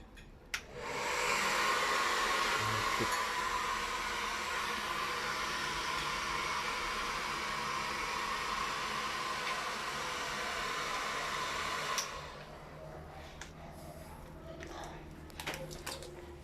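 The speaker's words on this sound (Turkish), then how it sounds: "Fön makinesini tutacağız." A hair dryer held near a barbecue grill blows with a steady, close, loud rushing whoosh for about eleven seconds, then switches off, leaving faint background noise.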